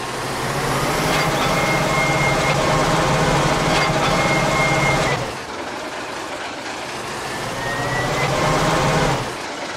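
Lamborghini 854DT tractor in Farming Simulator 19, its engine droning and rattling loudly and steadily, briefly dropping in level before rising again, with no speech.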